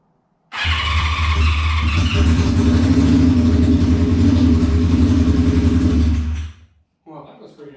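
An old, rusty Honda CB550 motorcycle engine fires up and runs loud and close, revving with a strong steady roar for about six seconds before cutting out, followed by a brief quieter burst.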